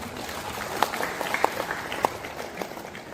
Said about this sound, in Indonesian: Sekali lagi boleh aplaus untuk kita semua.